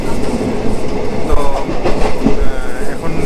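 Sri Jagannath Express train pulling into Kharagpur station, heard from on board: loud continuous rumble and clatter of wheels over rail joints, with faint squeals and irregular thumps throughout.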